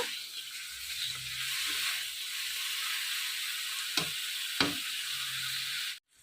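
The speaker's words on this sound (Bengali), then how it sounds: "আমার জলটা শুকে এসেছে তো আমি করলাটাকে এখন ভাজে নেব" Bitter gourd fries in a pan with a steady close sizzle, broken by two brief knocks of stirring, before cutting off abruptly.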